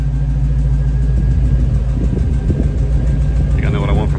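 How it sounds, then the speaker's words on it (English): A Chevrolet K5 with a swapped-in LS V8 runs with a loud, throbbing low exhaust rumble that holds steady close by. Voices talk over it toward the end. "That is already the most amazing sounding exhaust I think I've ever heard."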